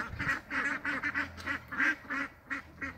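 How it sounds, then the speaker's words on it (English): Several farm ducks, older birds acting territorial toward young ones, call close by in a rapid run of honking quacks that come roughly every quarter second. "I think our old ducks are getting kind of territorial with these little"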